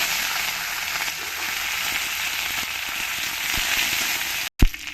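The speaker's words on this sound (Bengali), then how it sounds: "সর্ষেটা ভালো করে ফুটে গেলে দিয়ে দেবো কিছু কারি পাতা" Mustard seeds and curry leaves sizzle in hot oil in a pan for a South Indian fish curry, a steady loud frying hiss with faint crackles, ending in a brief cut and thump.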